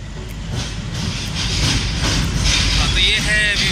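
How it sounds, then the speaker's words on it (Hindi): Vivek Express from Dibrugarh rolling into an Indian railway station early: a steady low rumble of wheels and carriages with faint hissing and squeals, loud and close throughout. "तो ये है विवेक एक्सप्रेस दिब्रूगढ़ से आने वाली ट्रेन, बहुत ही बिफोर टाइम में है।"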